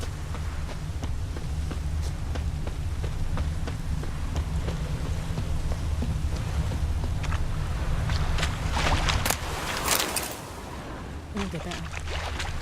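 Steady rain pours down in the video game The Witcher 3: Wild Hunt, a constant hiss with low rumbling beneath it, and someone talks briefly over it.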